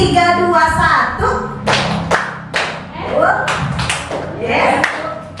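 Kindergarten children clap through a counting clapping game, a run of sharp group claps grouped three, two and one, mixed with voices calling out over the noisy room.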